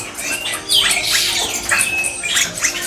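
Bali myna chicks squawk and chirp in rapid, overlapping bursts close up, a busy, scratchy chorus of begging calls with no talking.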